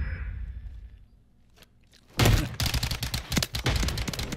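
Call of Duty Modern Warfare 3 gunfire from a submachine gun, a sudden loud burst of rapid shots with sharp cracks after a quieter stretch of movement and footsteps.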